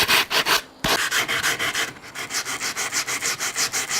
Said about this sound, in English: We'll just tidy up the edges with a bit of sandpaper.